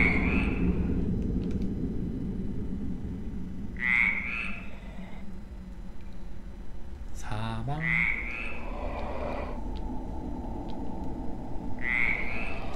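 Frog croaking in the dark horror game Dark Echo: short, bright croaks recur about every four seconds over a low, steady ambient drone, with one brief rumbling thud in between.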